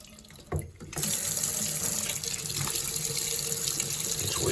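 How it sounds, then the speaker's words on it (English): Water gushes from a faucet into a sink after a brief quiet start and a short burst, then keeps running as a steady, close hiss to the end. "Now before I open up the faucet, I'm gonna take the aerator out."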